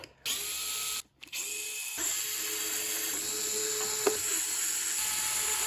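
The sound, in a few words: unscrewing radio screws with a 2.5 mm driver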